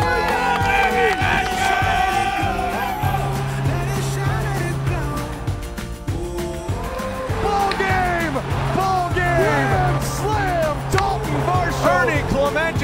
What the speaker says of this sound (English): When you step into that stadium and we do something really well, fans get up and really cheer for us.